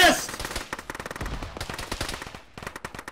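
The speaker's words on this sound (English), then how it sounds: "I'm shooting." Rapid automatic gunfire in a military video game, a dense burst of close machine-gun shots followed by more quick volleys after a short pause.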